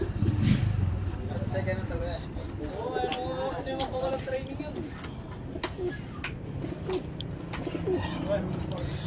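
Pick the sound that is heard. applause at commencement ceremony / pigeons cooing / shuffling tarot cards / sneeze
pigeons cooing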